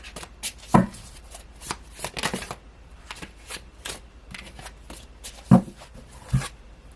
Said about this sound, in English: So we're going to pull a few tarot cards to see where your 2022 is going to go